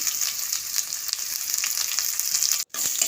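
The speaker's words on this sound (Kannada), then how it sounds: "ಚೆನ್ನಾಗಿ ಕಡಿಮೆ ಹುರಿಯಲ್ಲಿ ಅರ್ಧ ನಿಮಿಷ ಫ್ರೈ ಮಾಡ್ಕೊಳ್ಳೋಣ" Cumin, garlic and dried chillies fry in a pan over low heat, giving a loud, continuous close-up sizzle with small crackles and one brief dropout near the end.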